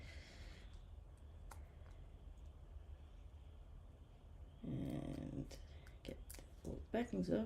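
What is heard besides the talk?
dog snoring and snorting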